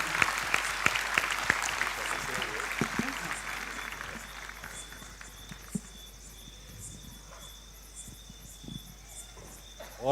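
Applause from an audience at a Sri Sri Ravi Shankar talk, dense clapping strongest in the first few seconds and then thinning to scattered claps, with a steady insect-like chirping hum running underneath throughout.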